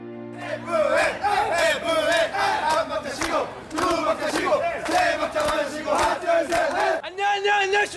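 A crowd of energetic university freshmen shouts together in loud, rhythmic chanting bursts with sustained voiced cries, near and continuous, briefly dipping before another round of shouts.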